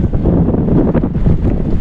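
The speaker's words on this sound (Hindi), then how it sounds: "हवा इतनी तेज है।" Strong wind blows hard across the microphone in a loud, gusting low rumble, with no voices.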